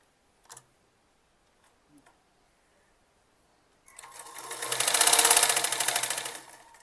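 A sewing machine stitches a folded puffed sleeve on a short kurti with elastic, starting after a few faint handling clicks and running as a loud, steady whirr for about three seconds before slowing.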